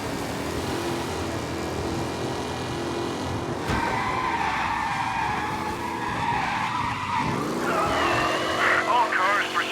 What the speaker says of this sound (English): Officers reporting a race car driving at speed through the city.